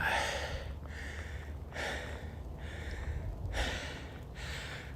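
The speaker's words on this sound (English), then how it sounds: "oh boy, I'm breathing hard." Heavy, labored breathing of a hiker on a mountain trail: repeated loud breaths roughly every second or so, close to the ear, with steady outdoor background.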